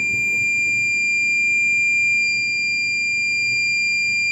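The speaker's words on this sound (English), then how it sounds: "So if I test here, it's supposed to beep." A multimeter continuity test beep on a mobile phone board, a continuous high pure tone held steadily throughout, loud and close with faint background noise.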